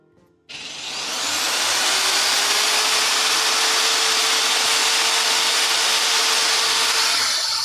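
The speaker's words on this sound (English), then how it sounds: "These holes are good. We'll drill them out." A power drill whirs up after a brief pause and runs at a steady, loud pitch, boring holes in wood for a CD shelf. No talking.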